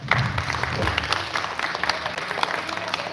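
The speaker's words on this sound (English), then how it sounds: "So with a round of applause, please welcome." An audience at the final day of a residential astronomy space camp applauds to welcome a speaker, a dense sustained wash of clapping that stays loud and even from start to finish.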